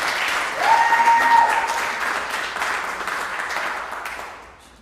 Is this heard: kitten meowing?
no